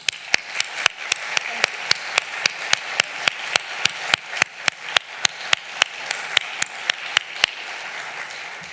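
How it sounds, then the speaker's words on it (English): Applause from a conference audience, a scattered, modest clapping with individual sharp claps standing out in an irregular but steady rhythm, sustained for several seconds. "please join me in giving them a warm round of applause"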